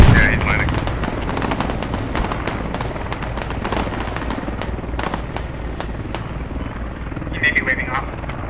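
A helicopter descends to land in the video game Squad, its rotor thumping steadily beneath rapid bursts of nearby gunfire and scattered shots, with players talking over the din.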